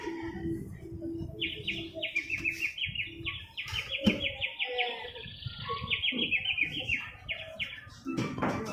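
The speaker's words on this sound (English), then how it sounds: "The bird chirped songs with its beautiful voice for them." A snow-white bird sings a run of repeated bright chirping phrases, fairly close and clear, with soft low rumbling background noise and a few rustles underneath.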